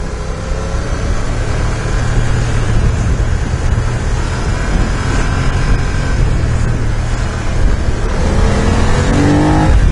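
A BMW F 900 R streetfighter motorcycle switched to dynamic mode pulls hard, its engine note climbing steadily in pitch as it accelerates, loud and close, with rising whine near the end and no talking.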